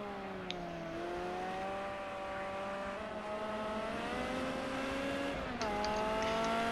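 Race car heading out onto the track, its engine droning steadily at a distance with tones rising and falling through gear changes, one clear shift near the end, and no voices.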